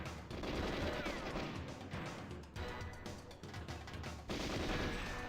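Dense, loud gunfire in the GoldenEye 007 video game, with rapid repeated shots and crashes running almost continuously throughout, briefly easing near the middle before surging again.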